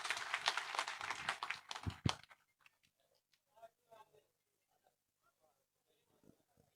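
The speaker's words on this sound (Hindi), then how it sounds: "एक बार जोरदार तालियों के साथ देवेंद्र कादन जी का स्वागत करें।" Rally crowd in a village in Ganaur assembly constituency claps loudly to welcome Devender Kadyan. Dense applause runs for about two seconds, then stops abruptly, leaving only faint scattered sounds.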